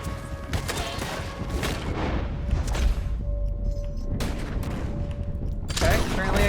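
Red Dead Redemption 2 shootout with several gunshot bursts and booms at irregular intervals over a steady rumbling game background; a few louder reports stand out near the end.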